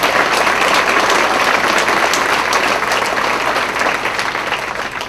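Sustained applause from a conference audience honoring a team of volunteers who sold cards at a foundation fundraiser, dense and steady throughout, easing slightly toward the end.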